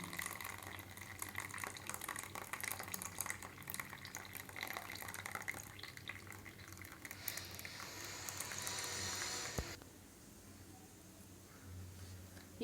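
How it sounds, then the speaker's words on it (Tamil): Cooking water being poured off boiled horse gram in a home kitchen, a steady splashing, trickling stream that runs for most of the stretch, then stops abruptly, leaving a quiet room tone. "இதை எடுத்து இதில் இருக்க தண்ணி ஃபஸ்ட்டு வடிச்சுக்கோங்க"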